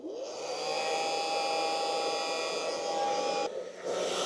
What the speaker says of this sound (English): with a blow dryer.